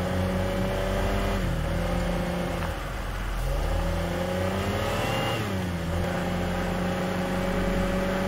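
Car engine droning and revving in the Teardown video game as the driver uses the handbrake to slide, with pitch dipping and climbing again through steady, loud motor noise.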